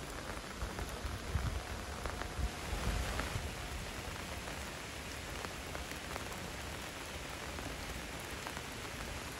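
Steady rain falls across a village, a dense, even patter on surfaces all around that continues without a break, with a faint low rumble under it early on.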